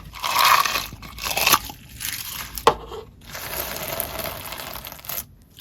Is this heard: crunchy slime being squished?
yes